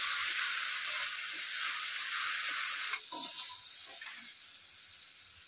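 Fish sizzles steadily in hot oil in a home kitchen pan for Bengali katla or puti fish curry, a loud continuous frying hiss that eases slightly midway as a few soft stirring knocks come through.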